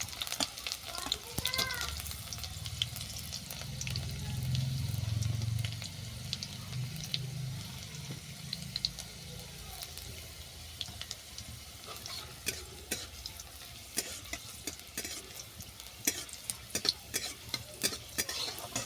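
Chopped garlic frying in hot oil until golden, a low steady sizzle with a swell of bubbling early on and then many sharp, irregular spatula clicks and scrapes against the pan, close by.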